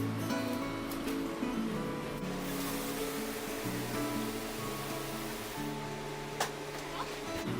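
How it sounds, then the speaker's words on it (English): Water runs from a kitchen tap into three cans for a cream cheese lasagna, a continuous rushing splash with shifting hollow tones as the cans fill, heard alone without talk. "I'm gonna go fill this up with water."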